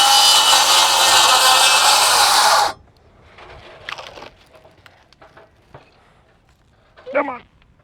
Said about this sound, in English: Hopefully, Greg, what you could do is you could cut those purlins down.